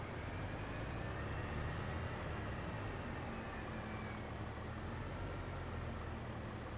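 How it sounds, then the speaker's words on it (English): A tractor in Farming Simulator 25 drives around a crowded farmyard, its engine a steady, dense low rumble that stays loud and even throughout with no talking. "I'll bring this tractor around here where it's all nice and crowded."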